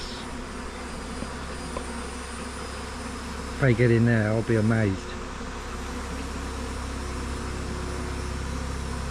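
A swarm of bees hums steadily around a nucleus hive as a constant close buzz, while a person speaks briefly over it.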